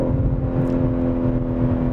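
A BMW M3 Touring on the road gives a low, steady engine and exhaust drone mixed with heavy wind rush, loud and continuous from inside the car.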